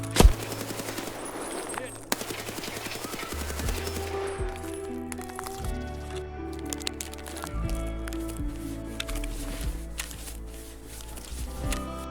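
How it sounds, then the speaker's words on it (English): A close-range gunfight with an enemy PMC in Escape from Tarkov, loud bursts of automatic gunfire and single cracking shots repeating across the span, with a voice speaking over parts of it. "ironically bringing me directly into a gunfight with a PMC"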